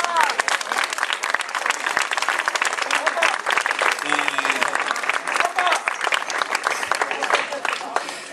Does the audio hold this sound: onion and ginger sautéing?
no